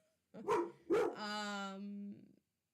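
A dog indoors barks at a window: two sharp barks followed by a long, drawn-out howling bark-whine, fairly close and moderately loud in a quiet room.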